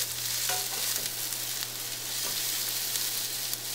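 Onions sizzle and crackle in oil with peppercorns over a medium flame, a steady close frying hiss with a few faint clinks of stirring and a low steady hum underneath.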